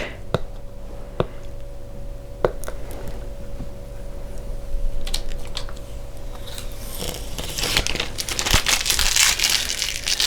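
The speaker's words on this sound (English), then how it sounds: "I'm gonna take off the little plastic." Protective plastic film peeled off a makeup product close up, crisp crinkling and sharp crackles that grow busier and louder toward the end.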